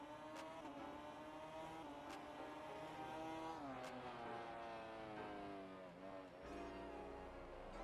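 A 2009 MotoGP racing bike in the GP Bikes simulator howls at high revs, its engine note sliding down in pitch as it engine-brakes into a corner, then climbing again, loud and continuous with no talk.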